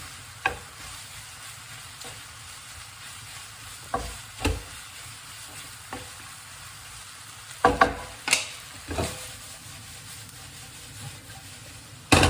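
Noodles fry with peppers and spring onions in a pan, a steady close sizzle broken by irregular clacks and scrapes of stirring utensils, with no talking.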